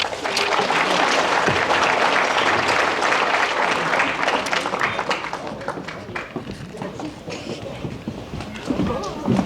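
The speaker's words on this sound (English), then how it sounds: "Let's give these ladies one more round of applause." At a high school athletic banquet, a dense and loud round of applause for the honored players rolls on continuously, then gradually tapers off.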